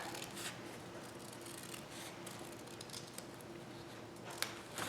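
Scissors cutting out a paper hat-brim shape during a painting session, a steady close rasping and snipping that runs continuously with faint rhythmic strokes and no talking.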